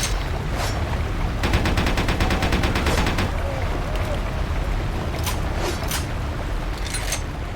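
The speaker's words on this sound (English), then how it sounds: "if your enemy is busting out automatic weapons" Automatic weapon fire in the video game Vampire: Bloodlines rattles in a rapid sustained burst over a constant dense background roar, followed by a few sharper isolated shots, loud and close.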